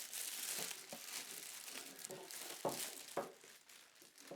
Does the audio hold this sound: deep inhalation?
no